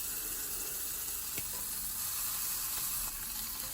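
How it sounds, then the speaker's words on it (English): Lamb steaks frying fat side down in a hot pan give a steady, close hiss of sizzling fat, even and continuous with a couple of faint pops and no talk. "I like to flip them up onto the fat side as well and let that render down a little bit"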